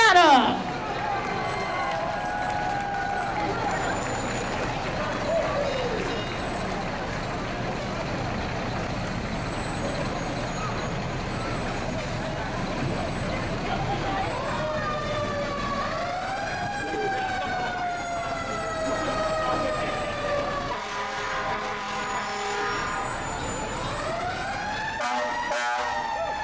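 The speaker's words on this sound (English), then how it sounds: "And to end our parade, we have the Stratum fire engine." A fire engine closes out a town's grand anniversary parade from a market square, its siren wailing in rising and falling sweeps over a rumbling truck engine and crowd noise, with an announcer talking over it.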